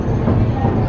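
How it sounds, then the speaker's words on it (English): Train rumbling overhead on a London railway, a steady loud low roar with dense rattling filling the whole moment, heard from street level below. "You can hear the sound of train above."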